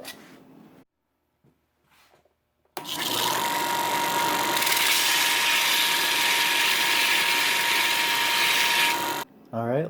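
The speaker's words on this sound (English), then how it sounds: "So I'll take this over to my belt sander." After a few quiet seconds with faint sounds, a belt sander starts up and grinds down a ridge on a plastic bowl with a loud, continuous whirring abrasion. It holds steady for about six seconds, then cuts off.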